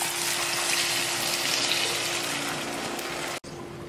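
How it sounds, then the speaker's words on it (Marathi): Water is poured into a pan of dhaba-style matar gravy, giving a steady, fairly close gushing splash that runs for several seconds and then cuts off abruptly near the end. "याच्यामध्ये ना थोडं पाणी घालू."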